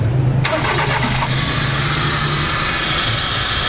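A Mazda Scrum minivan engine cranks briefly, then catches and settles into a loud, steady idle.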